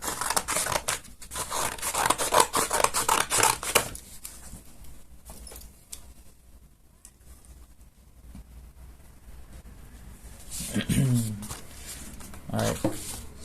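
Scissors snipping and paper crinkling while cutting out a folded paper Call of Duty Ghost mask, a dense burst of close cuts at the start, a quieter stretch, then a few more snips and rustles near the end.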